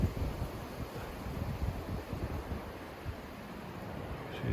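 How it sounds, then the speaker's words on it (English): Wind blowing outdoors near a pond during a hunt, a steady low rumbling buffet across the microphone, constant and fairly faint, with no voices. "It's just so windy and stuff"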